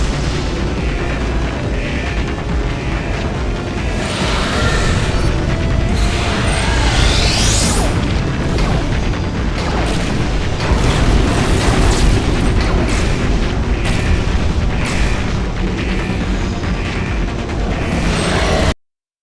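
Reactor explosions in the video game Portal 2 boom and rumble loudly and continuously for nearly twenty seconds. Crashing, metallic bursts sit over a dense low roar, then cut off abruptly.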